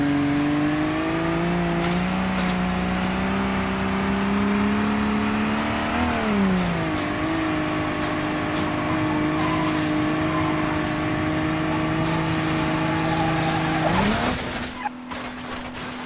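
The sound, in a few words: car engine revving without exhaust, video game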